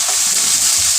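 Garlic fries in hot oil for a homemade pea biryani, giving a loud, continuous crackling sizzle close up that stays dense and steady the whole time.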